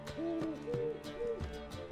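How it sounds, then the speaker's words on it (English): Owl hooting in The Witcher 3: Wild Hunt, a few clear, close tonal hoots in a short series over quiet game ambience with no talk. "It's an owl. It won't speak."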